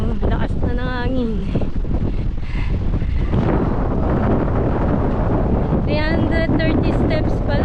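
Heavy wind on the summit of Mount Balagbag rumbles and buffets the microphone, a loud, continuous roar with shifting gusts. Several people talk over it at the start and again near the end.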